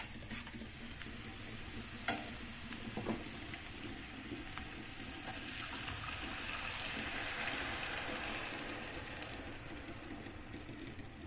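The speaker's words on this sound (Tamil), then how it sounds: "இப்போ பாருங்க நல்லா கொதிச்சிட்டு இருக்கு" Fish curry gravy of spice powder, tamarind water and tomato-onion paste, Chennai style, boils in a pot with a steady close bubbling and sizzling hiss, a couple of faint clinks near the start and no talking.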